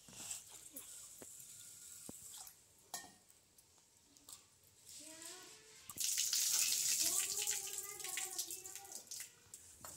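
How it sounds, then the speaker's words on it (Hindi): Water splashes and sloshes in a bowl as rice is rinsed by hand, close up, growing louder and busier partway through. "ये चावल धुले जा रहे हैं"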